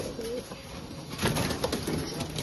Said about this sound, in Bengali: এই ওর লফটের মধ্যে পায়রাগুলো আছে।